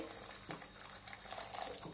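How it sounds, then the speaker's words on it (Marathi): Boiled water pours steadily into a pot with a soft continuous splashing rush, fairly faint, with no talking. "मी हे उकळून घेतलेलं पाणी यामध्ये घालतेय"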